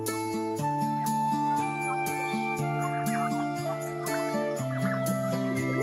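Turkeys gobble and chickens cluck loudly and without a break as a rooster is let out into a free-range area, with layered calls from many birds close by.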